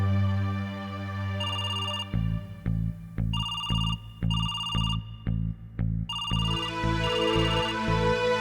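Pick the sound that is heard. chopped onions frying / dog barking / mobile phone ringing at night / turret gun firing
mobile phone ringing at night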